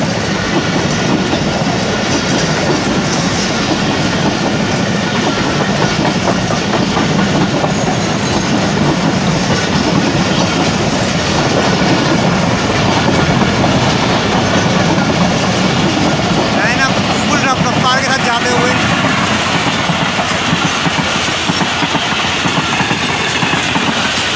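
A Pakistan Railways train rolls loudly past Jumma Goth railway station, its wheels clattering in a steady rhythm over the track for the whole stretch, with brief faint squeals and a voice talking underneath.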